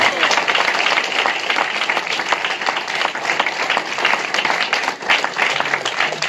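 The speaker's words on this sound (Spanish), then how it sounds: "Den un aplauso al Señor Jesucristo." A church congregation claps in praise, a dense continuous wash of applause at close, even loudness without a break.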